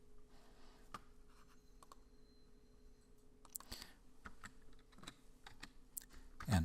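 Computer keyboard typing while entering a Blender scale shortcut: a handful of sparse, crisp key clicks, close and fairly quiet, ending with a firmer press.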